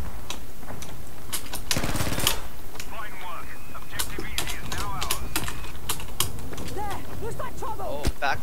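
Sharp gunfire and distant shots crackle through a Battlefield V multiplayer firefight, including sniper fire from a hilltop, with repeated sharp reports scattered over a busy battle din while voices talk faintly underneath.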